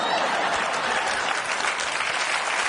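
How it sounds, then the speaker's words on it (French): Dense audience applause from a live comedy show audience, steady and full throughout, a broad continuous wash of many hands clapping with no pause. "On laisse passer les applaudissements"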